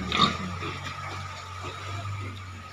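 Pigs grunting and oinking in pens at a piggery farm, a scattered close grunt near the start over a steady low engine-like hum, with no clear talk.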